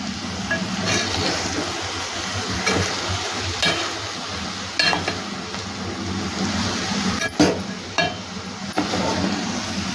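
Paneer jeera masala rice being stirred in a pan, with a steady soft sizzle under repeated scraping and clinking strokes of a spoon against the metal, close and fairly even throughout.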